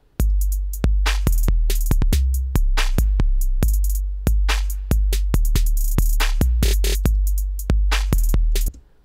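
A four-bar trap drum loop programmed in Ableton plays alone: a booming kick, clap, snare and hi-hat repeat in a steady, loud, evenly spaced pattern.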